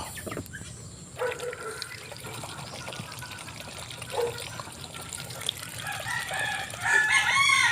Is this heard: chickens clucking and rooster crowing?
yes